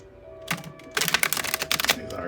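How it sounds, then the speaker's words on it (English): Tarot cards shuffled by hand in a quiet room, a quick burst of crisp riffling and flapping card clicks after a brief pause, close and fairly loud. "so I'm going to shuffle them."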